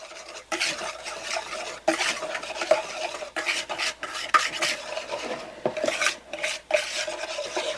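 Ranch dressing mix being stirred in a bowl, a close rhythmic scraping and rasping of a utensil against the bowl with irregular strokes, no voices.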